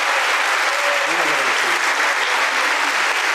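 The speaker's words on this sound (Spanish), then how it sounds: "Un aplauso, por favor, a la maestra." An audience applauds a teacher at a university lecture event, steady dense clapping throughout, with a faint voice murmuring underneath partway through.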